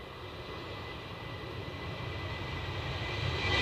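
An airplane at Edinburgh Airport gives a steady, distant engine roar that slowly grows louder, with no one speaking.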